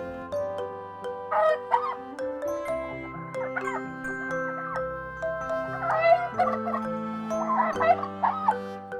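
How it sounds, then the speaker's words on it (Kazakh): A rooster's crowing calls sound out several times in short bursts, mid-loud, over a background of light melodic music with sustained tones. "петух."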